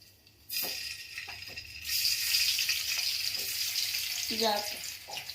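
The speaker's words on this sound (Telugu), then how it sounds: "మీరు చూస్తున్నట్టయితే అక్కడ ఫ్రై అవుతుంది" Food frying in hot oil, a sizzle that starts abruptly and settles into a steady hiss, with faint voices and light clinks of utensils near the pan.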